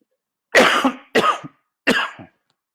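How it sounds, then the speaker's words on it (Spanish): A person coughs three times in quick succession, each a harsh, close burst with a short pause between, with no other sound around them. "Ya me dio la tos aquí."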